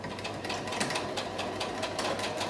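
A sewing machine runs at a steady fast rhythm, stitching over a wire inside a fabric mask, close and continuous with no voices.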